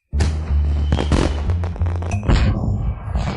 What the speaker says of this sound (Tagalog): Papanood tayo ng fireworks.